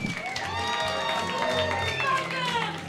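An audience at a comedy roast battle claps and cheers, moderately loud and sustained, while a voice talks over the applause.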